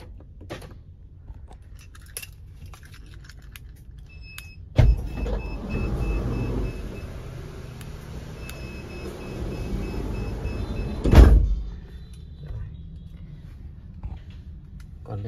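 Ford Tourneo van's hidden electric sliding side door triggered by remote: a loud clunk starts a steady motorized whir lasting several seconds, then a heavy thud as the door stops, with faint beeps along the way.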